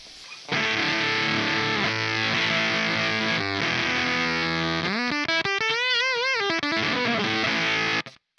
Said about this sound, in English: if we dime this gain control all the way up, you'll hear just how clipped it is